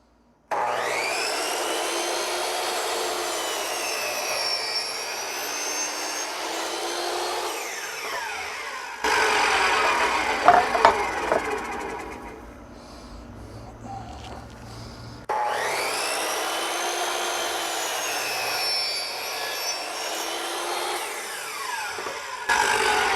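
A power saw cuts through a wood workpiece in two long passes, one side then the other, each a loud sustained whining rasp with a short pause of quieter rubbing between them.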